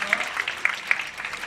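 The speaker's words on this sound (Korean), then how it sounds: "박수 한번 주세요." Applause from the congregation at the opening worship of a presbytery's 100th regular session at Bucheon Seomun Church, heard as a short, uneven patter of hand claps with a few sharper individual smacks standing out.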